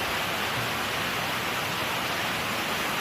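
A waterfall roars in a mountain valley swollen with floodwater after a typhoon, a steady, dense rushing wash that stays loud and unbroken from start to finish.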